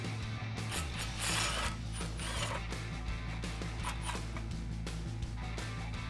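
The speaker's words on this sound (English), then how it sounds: "It's held in with 3 8-millimeter bolts. Let's go ahead and grab an 8-millimeter socket." A hand ratchet with an 8 mm socket turns out the dust shield bolts on a 2004-2019 Ford F150 front hub, close, quiet rapid clicking in repeated strokes with faint metallic knocks and no talking.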